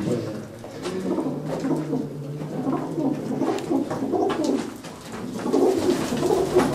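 Pigeons coo in soft, rolling, repeated calls throughout, several birds nearby at a pigeon-keeping loft, with faint voices in the background.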